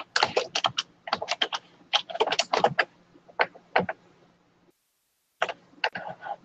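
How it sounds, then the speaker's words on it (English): Someone types on a computer keyboard during a video call, sharp close clicks arriving in rapid uneven bursts, pausing briefly near the end before a final flurry, with no voices over them. "somebody is typing, maybe you can mute yourself"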